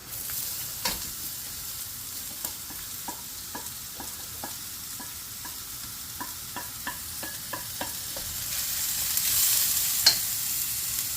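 Ginger and garlic sauté in a pan for a lasagna filling, with a soft, steady sizzle and a series of light, rhythmic taps and scrapes from stirring. The hiss swells near the end.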